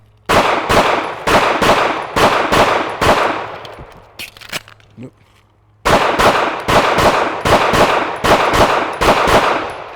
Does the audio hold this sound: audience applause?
no